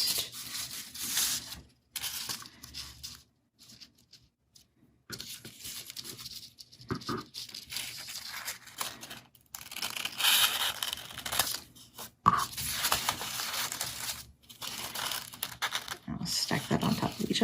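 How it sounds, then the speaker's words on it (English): Scissors cut through stacked paper to shape two-inch petals for a handmade paper flower, with quiet snips, rustling and crinkling of paper close by, with brief pauses between cuts. "we're going to cut 2 petals from this that are also 2 inches tall"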